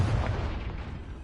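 A Confringo blasting spell explodes in Hogwarts Legacy on PS5, a deep, booming burst with heavy low-end rumble that fills the whole moment and slowly tails off without a break.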